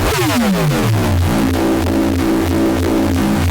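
A thick, buzzing detuned FM synth bass built from feedback sources, its pitch sweeping downward at the start, then settling into a steady, slightly wobbling low drone with a gritty, detuned edge.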